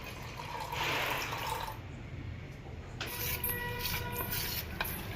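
About 800 grams of water is poured into gram flour to make chutney for cholafali, a soft, splashing pour heard faintly in bursts with short pauses.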